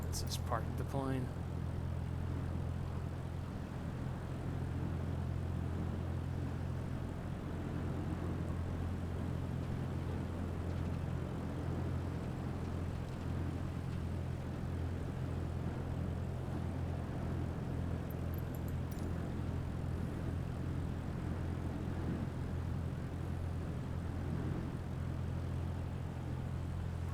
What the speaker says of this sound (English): Yeah, this is parking the plane.